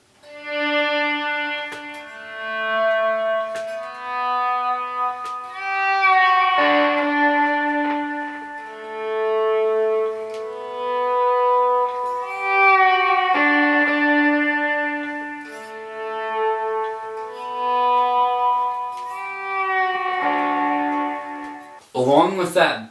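An electric guitar lead riff, shaped by a volume pedal with overdrive, delay and reverb, plays single notes that swell in smoothly and ring out with echoing trails, loud and alone.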